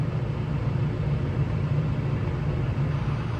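A John Deere tractor engine runs at RSPB Old Moor during hay collecting in a field, a steady low rumbling idle with even throbbing, close and continuous for the whole stretch, no one talking.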